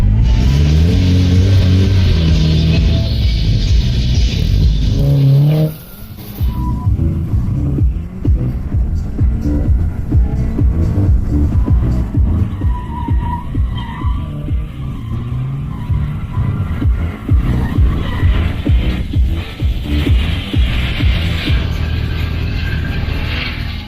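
Mazda MX-5 race car lapping a track, its engine loud and close throughout, revving up and down through gears with tire squeal and skidding during cornering, a steady aggressive drone with brief drops between shifts.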